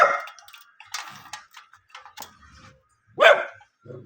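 A large dog barks in a few separate, sharp bursts with quiet gaps between, fairly close and loud, the strongest bark coming near the end, with no talking.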